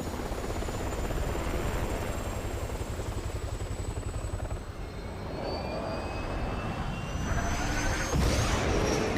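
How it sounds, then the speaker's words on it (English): A helicopter in the video game Resident Evil 6 gives a steady, loud rotor and engine drone that holds for several seconds and swells slightly near the end, with no talking over it. "The helicopter! We got a helicopter"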